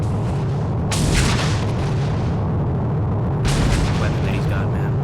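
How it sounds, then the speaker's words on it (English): Napalm strike in the Armored Brigade war game, two loud rolling explosive bursts a few seconds apart over a steady rumbling battlefield background. "It's gonna be our napalm."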